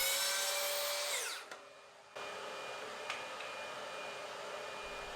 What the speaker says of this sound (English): I'll use the track saw to do that